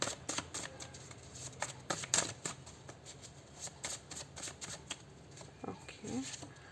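Tarot message cards being shuffled by hand, a series of quick papery riffles and flutters close up, repeated in short bursts with faint speech now and then.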